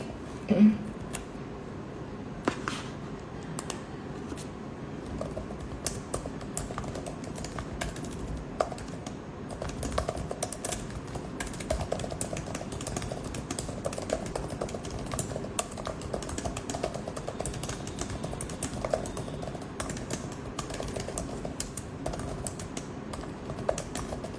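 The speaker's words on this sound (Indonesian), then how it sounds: "aku sambil ngetik tadi" Fingers type steadily on a computer keyboard, a soft continuous clatter of quick key taps at moderate distance lasting the whole stretch, with faint room noise behind it.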